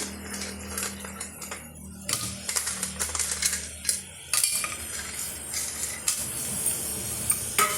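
Crab soup ingredients being sautéed in a pan, with a utensil repeatedly scraping and tapping against the metal in quick irregular strokes over a soft sizzle, close and steady throughout.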